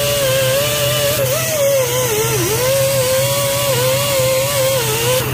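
An air-powered wire brush scrubs carbon buildup off the pistons of an Audi 1.8/2.0 engine, giving a steady, loud whine that wavers slightly in pitch and runs continuously with no pauses or speech.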